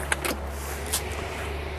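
Door of a restored 1965 Pontiac GTO being worked, with a few faint, short latch clicks and knocks near the start and about a second in, over a low steady hum.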